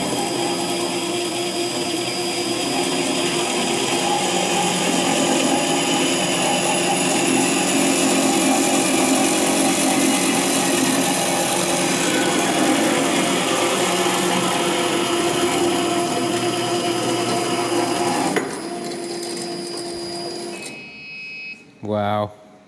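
A quiet metal-cutting saw running through carbon steel in a truck workshop, a steady loud whirring and grinding hum that holds for most of the stretch, then winds down into a few short mechanical clunks.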